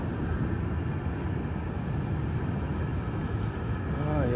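A train rolls past close by with a steady, loud, broadband rumble that holds for the whole stretch, and a faint squeal rises near the end.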